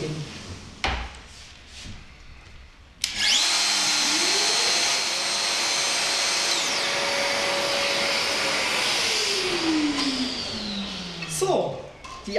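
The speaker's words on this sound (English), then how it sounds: "The cutting is repeated once more." A Festool VS600 jointing system cuts wood with a sudden loud, sustained high whine under a steady extraction roar. The pitch bends down and recovers for about nine seconds before winding down, with faint handling knocks before and after.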